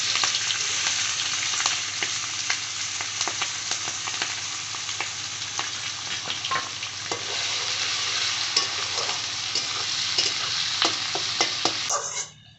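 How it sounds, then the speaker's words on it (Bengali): Chopped onions and green chillies sizzle steadily in hot oil with whole garam masala, cumin and bay leaves for a home-made chicken curry, a dense close frying hiss broken by frequent scrapes and clicks of stirring, with no talking. "পেঁয়াজগুলো ব্রাউন করে ভেজে নেব।"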